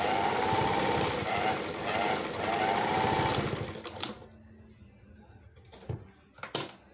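Singer Golden Girl foot-pedal sewing machine stitching with a fast, steady mechanical whir and clatter for about four seconds, then stopping, followed by a few sharp metallic clicks and handling knocks.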